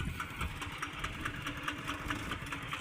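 A new tractor engine idles nearby with a rapid, even chugging pulse, running continuously at moderate loudness with no voices.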